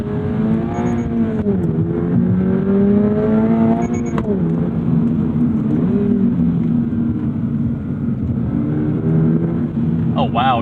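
A 2025 Subaru BRZ tS sports car with a Torsen limited-slip differential accelerates hard, its engine drone rising and falling through gear changes for the whole stretch, loud and close from the cabin.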